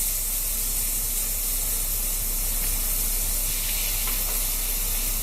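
Steak sears in a hot skillet with a loud, constant sizzling hiss, close and uninterrupted throughout.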